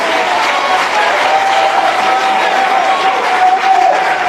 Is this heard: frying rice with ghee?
no